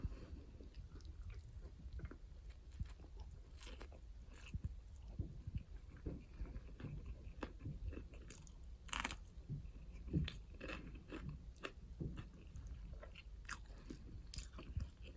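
Quiet, close chewing and biting while eating beef curry with lentils, with irregular soft crunches and mouth sounds repeating throughout.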